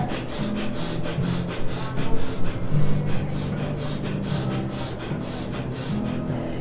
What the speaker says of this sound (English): Fast sniffing.